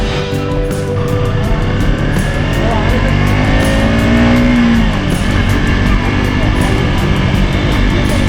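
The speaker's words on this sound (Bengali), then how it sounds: "ও ভাই সেই মজা লাগছে ভাই রাত্রে এই রাস্তায় গাড়ি চালিয়ে।" A car driven at night along a rural road, its steady engine and road noise loud and continuous throughout, with a slowly rising and falling tonal whine; no distinct voices stand out over the drone.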